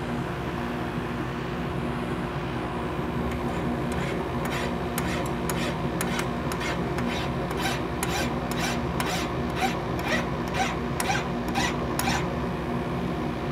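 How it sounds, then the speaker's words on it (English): A big file rasps against a crystal in repeated rhythmic strokes, about a dozen sharp scraping pulses over a steady background hum. "We're gonna use a big file here."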